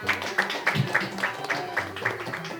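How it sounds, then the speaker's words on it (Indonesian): Small audience claps in a quick, steady rhythm at an informal talk about luwak coffee, the evenly spaced claps close and moderately loud, with a voice and other sounds underneath. "Tepuk tangan dulu, tepuk tangan."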